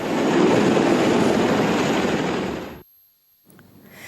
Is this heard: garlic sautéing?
no